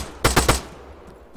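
An AKM rifle in the game Arma 3 fires a quick burst of three close, loud shots, followed by a fading echo.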